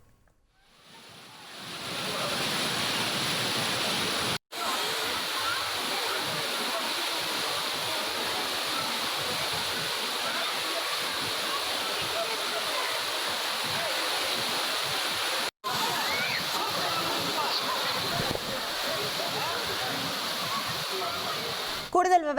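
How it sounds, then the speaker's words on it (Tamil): Roaring Thirparappu waterfall where tourists bathe, a loud, steady broadband rush of falling water that fills the whole stretch with no letup, close and continuous. "ஆர்ப்பரித்து கொட்டும் அருவியில் ஆனந்த குளியல் போட்டு சுற்றுலா பயணிகள் மகிழ்ந்து வருகின்றனர்."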